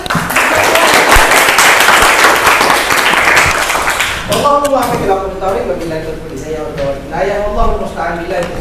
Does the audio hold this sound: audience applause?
yes